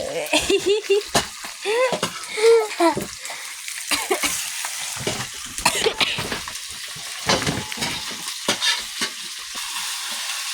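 Meat sizzling and frying in a hot wok, with scraping stir strokes and occasional clatter; a cough breaks through faintly at one point.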